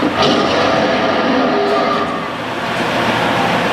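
A loud, continuous rumble and rattle of the Universal Studios Hollywood tour tram rolling along a rough, narrow trail, with steady mechanical clatter throughout.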